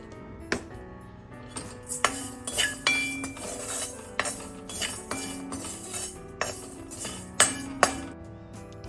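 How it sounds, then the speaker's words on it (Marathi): Mixed seeds such as pumpkin, watermelon, flax and sesame are dropped and spooned into a dry fruit ladoo mixture in a bowl, giving close, irregular clinks and taps of a spoon against the dish, with no voices. "ते थोडेसे मिक्स सीड्स पण मी टाकणार आहे."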